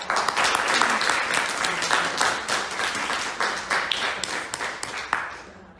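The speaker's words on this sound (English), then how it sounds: "Can we get a round of applause for our incredible" An audience at a university panel on institutional divestment breaks into loud, sustained applause, dense overlapping claps that stay strong for several seconds before tapering off at the end.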